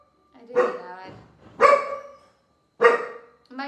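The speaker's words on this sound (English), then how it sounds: "My dog is barking." A dog barks indoors in three loud, spaced barks with a short fourth at the end, sounding near and heard alone.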